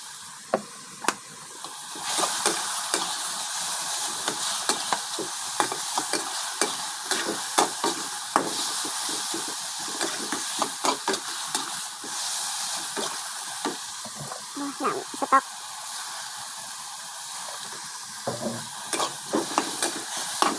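Pork and holy basil stir-fried in a pan for a Thai basil pork dish, a steady bright sizzle with repeated scraping stirs and clanks of the spatula, close and continuous with no talking.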